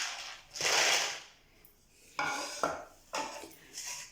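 Crispy revri sweets clatter and crunch as they are handled and shaken in a metal dish, giving several loud rattling bursts separated by short pauses.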